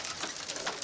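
Male tippler pigeons in a kit box give a brief, soft, low cooing, faint and close, with no talk.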